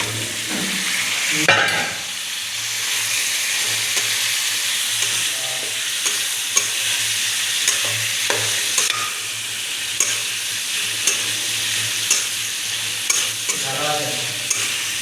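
Washed potatoes and meat sizzle loudly in a hot pan, with a strong steady frying hiss and repeated scraping stir strokes close by, and no talking.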